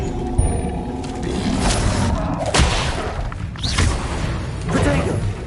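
Hogwarts Legacy spell blasts and impacts, a chain of booming hits and whooshing bursts over a loud, busy battle, while a voice shouts out spell names.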